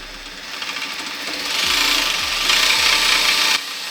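Homemade hydraulic pump running and pushing oil, a busy mechanical whir with a rasping, grinding texture that builds in loudness over a few seconds before cutting back abruptly.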